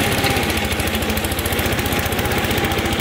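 A Briggs & Stratton 450E push lawn mower runs in a garden, its small engine loud and close with a fast, even pulsing drone throughout.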